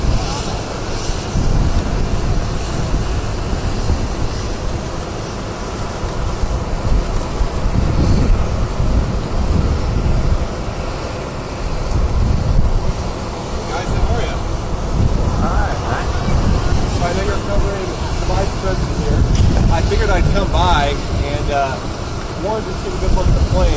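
An airplane engine runs on the tarmac, a loud, steady roar with a constant drone and rumble that lasts the full stretch, with voices faintly present underneath.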